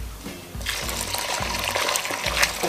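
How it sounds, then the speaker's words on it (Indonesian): Hot water pours onto sago in a bowl to make papeda, starting with a short low gurgle then a steady splashing stream that grows slightly louder, with no talking. "Sekarang kita siram sagunya."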